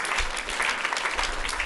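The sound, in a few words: audience clapping for Avnish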